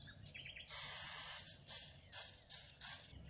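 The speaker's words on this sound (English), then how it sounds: "you can spray some more oil." Oil spray bursts onto chicken pieces in an air fryer basket: one long hiss followed by four shorter, evenly spaced pumps, close and fairly loud.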